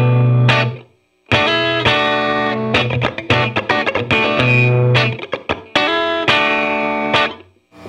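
Electric guitar played straight through a VHT Standard 12 tube amp with no pedal, loud and close: a run of strummed chords and short choppy stabs with brief gaps, ringing harmonics and a slightly crunchy overdriven edge.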